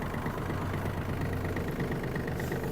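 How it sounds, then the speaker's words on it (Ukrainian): A Yanmar RS-270 mini tractor engine idles steadily while warming up, a continuous low mechanical hum with a faint rhythmic knock that stays even and close throughout. "Поки двигун прогрівається"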